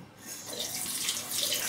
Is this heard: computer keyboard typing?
no